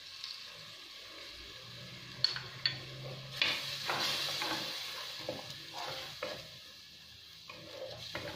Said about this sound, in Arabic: نخليه يتقلى شويه